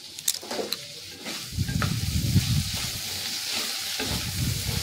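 Masala with turmeric fries in a pan, a close hissing sizzle with sharp spoon scrapes early on, then a louder, busier frying crackle as the mixture is stirred.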